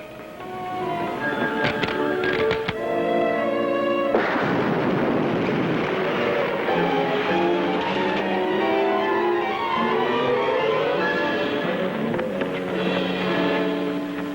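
Dynamite blasts go off in an old western TV episode, sharp bangs with crackling debris followed by a long roaring rumble, loud and close, with horses and shouting mixed in.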